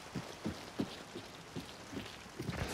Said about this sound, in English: Yeah, heavy rain is back.